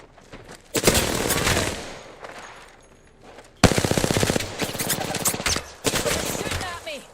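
Automatic gunfire in the video game Apex Legends comes in three loud, rapid bursts of closely spaced shots, separated by brief quieter gaps.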